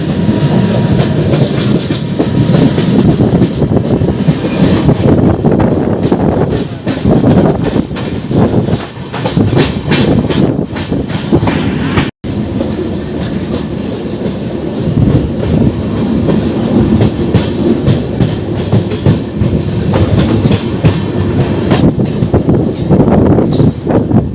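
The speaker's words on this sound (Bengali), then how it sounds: "ডিব্রুগড় কন্যাকুমারী বিবেক এক্সপ্রেস।" The Dibrugarh–Kanyakumari Vivek Express, a long Indian passenger train, rumbles past close by with steady rail clatter and clickety-clack of wagons over the track, loud and continuous with a brief break midway, and no talk over it.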